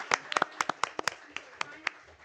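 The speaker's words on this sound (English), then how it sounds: "please give her a round of applause" A scattering of light, uneven hand claps at a school board meeting, about a dozen sharp hits over two seconds, sparse rather than a full round of applause.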